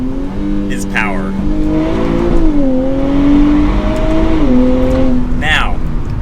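A sports car engine, from a comparison of an A90 Toyota Supra and a 2023 Nissan Z, revs and accelerates hard through rising gear pulls with shifts, loud and close, with brief tire chirps and a voice speaking over it.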